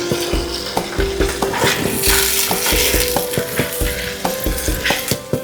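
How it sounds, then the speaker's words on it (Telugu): Tomato pieces sizzle and fry in a pan for a village-style murrel fish curry. A spoon stirs and scrapes against the pan in a steady rhythm, close and fairly loud, with no talking. "ఇప్పుడు టమాటా ముక్కలు వేసి"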